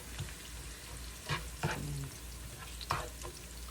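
Onion and garlic fry for corned beef in a pan, a soft steady sizzle with a few brief stirring scrapes and clinks, close and fairly quiet, no voices.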